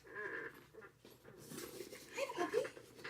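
A puppy pants and breathes close by in a sewing room, giving quick, rhythmic huffs that grow louder toward the end, with a person's voice heard briefly.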